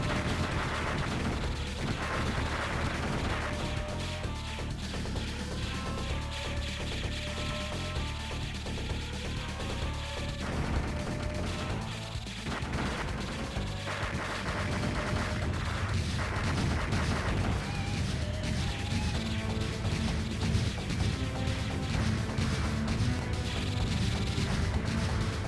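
Continuous rapid-fire shooting from a hard retro shooter video game, a dense unbroken stream of blasts and explosions layered over game music, loud throughout with no pauses.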